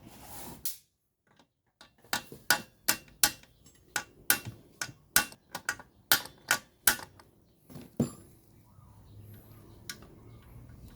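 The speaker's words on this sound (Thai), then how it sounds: "หาค้อนมาเพื่อจะเคาะให้มันเข้านะครับ" A series of sharp hammer taps, about a dozen quick knocks in an uneven rhythm, close by, then quiet, as a replacement valve rocker arm is tapped into place on a Honda GX35 brush cutter engine.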